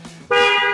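A loud, sustained aftermarket horn blast on a Toyota Venturer, bright and brassy with multiple tones, starting abruptly after a brief low murmur and holding steadily until the end.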